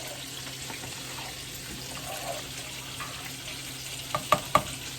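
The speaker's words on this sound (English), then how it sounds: "I'm gonna give it a good stir" Pork chops frying in a pan give a steady low sizzle, with a few quick clinks from stirring near the end. It is fairly quiet and close, with no talk.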